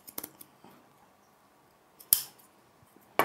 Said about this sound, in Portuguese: agora eu vou só cortar essa franja